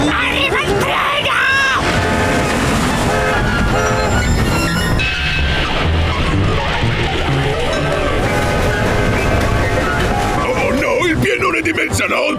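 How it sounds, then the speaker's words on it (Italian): Cartoon train arriving in an animated undersea comedy scene, a loud, dense rumbling train sound with a whistle-like horn, heard under shouting voices and busy music for the whole stretch. "Arriva il treno!"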